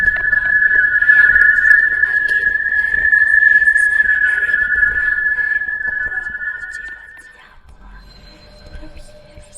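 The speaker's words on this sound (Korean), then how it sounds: "점점 휘파람 소리가 가까워지더니 내 기숙사 문 사이로" A single sustained, high whistled tone carries on for about seven seconds and then stops, loud and close, standing out over faint background noise like an eerie whistle in a scary story set at a university dormitory at night.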